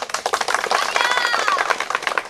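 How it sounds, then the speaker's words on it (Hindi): Dense, steady applause from an audience at an on-location shoot for a Bhojpuri film, greeting lead actor Khesari Lal Yadav, with faint whistles rising through the clapping. "एक बार तालियां।"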